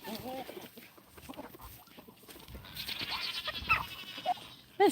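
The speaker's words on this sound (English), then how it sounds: "The same two roosters at it again." Two roosters fight on a homestead, giving scattered clucks, squawks and flapping bursts that grow busier toward the end, with faint background noise.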